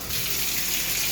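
Water streams steadily from a hotel bathroom shower head, a broad, even hiss of spray that runs on unbroken at close range with no voices.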